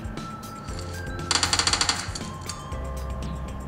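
A short rapid burst of automatic gunfire, about eight quick shots, rattles over a busy background of PUBG Mobile game sounds on a Redmi Note 8 phone.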